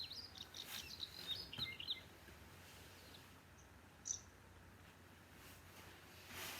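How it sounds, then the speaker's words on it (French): Several birds chirp and tweet faintly in the distance, with short high calls scattered over a soft, steady outdoor background hum. "Vous entendez le bruit des oiseaux? Le chant des oiseaux?"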